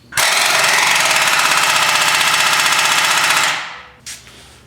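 Rapid rattling hammer of an impact wrench tightening a bolt on a Ford F150 front axle, loud and close for about three seconds before winding down, followed by a brief metallic clink.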